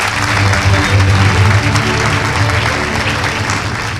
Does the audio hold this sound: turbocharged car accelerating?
no